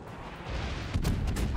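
Warship guns fire from inside a smoke screen in World of Warships, booming heavy and loud. A deep rumbling blast builds into a dense roll of cannon fire, with no talk over it.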